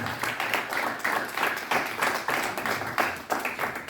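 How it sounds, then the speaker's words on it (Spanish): A church congregation claps together during a sermon, a dense, steady patter of many hands that carries on throughout without pause. "Si usted lo quiere dar, denle un aplauso con todo el corazón."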